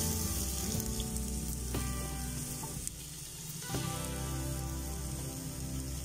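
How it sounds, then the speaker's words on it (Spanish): Chopped onions frying in olive oil in a hot pan, a loud, dense, continuous sizzle close up, with faint clinks and a brief dip midway. "Ya tenemos entonces mi paila caliente, vamos a colocarle un poquito de aceite de oliva y vamos a adicionar mis cebollas."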